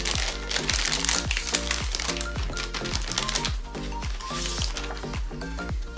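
Plastic packaging on Hello Kitty stationery crinkles and crackles up close as it is opened, a dense run of quick, sharp rustles lasting several seconds over a faint background hum.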